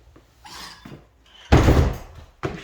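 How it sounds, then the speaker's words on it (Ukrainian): A solid oak door in a house is pushed shut, with soft handling and scraping noises first, then a loud, close thud and rattle, followed by a second short knock. "Я закрию двері."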